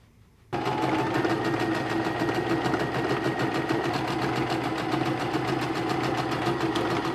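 A sewing machine stitches a dart seam on a garment, starting abruptly after a brief quiet moment and then running steadily with a fast, even mechanical whir and rapid needle rhythm, close and alone.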